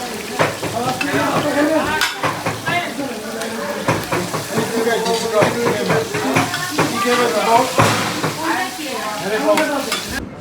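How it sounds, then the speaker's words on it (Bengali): Hilsa fish tail cooking for bharta in a pan, with steady frying sizzle and repeated spatula stirring and scraping clatter throughout, close and fairly loud, with a voice talking at moments. "এদিকে ইলিশের লেজ ভর্তা করা হচ্ছে"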